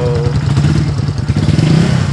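A Mojo 200 motorcycle engine runs close and loud, its low, pulsing exhaust throbbing with a rhythmic clatter and rising slightly as it revs, with no talk over it.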